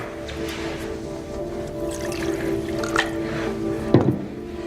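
Water pours into a container during a candlelit ritual scene, a continuous trickling fill under a low ambient drone, ending with a splashy knock near the close.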